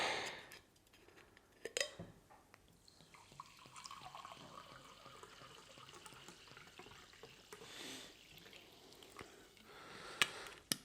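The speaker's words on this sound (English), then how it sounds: "Let me just pour a glass of my favourite Vichy Catalan." Vichy Catalan mineral water is poured into a glass, a faint, soft trickle with small splashes and a few clinks, heard alone in a quiet room.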